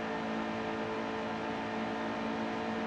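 A NASCAR Heat 2 race car engine at full throttle gives a steady, droning roar with a constant pitch, held for a few seconds without talk.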